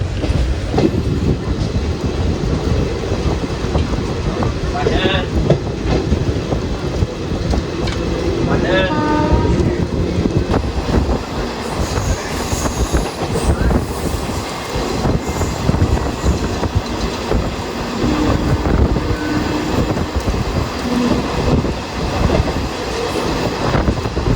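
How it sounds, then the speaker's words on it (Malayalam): Two Kerala Jan Shatabdi express trains, the Calicut and Kannur services, pass each other on parallel tracks, a steady loud rumble of wheels and carriages running through the whole stretch with brief squeals and a faint horn. "നമ്മുടെ കേരളത്തിൻ്റെ 2 ജനശതാബ്ദികൾ അങ്ങോട്ടും ഇങ്ങോട്ടും തമ്മിൽ കൂടിക്കാണും"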